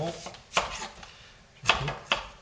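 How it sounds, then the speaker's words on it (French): Knife chopping an onion on a cutting board for a meatball tagine: a few sharp, separate cuts with quiet pauses between them, close and clear, with no one talking. "Donc après il faut couper l'oignon."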